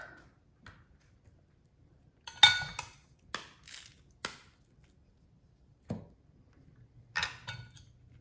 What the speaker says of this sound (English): Okay, so I got all my avocado chopped a little bit.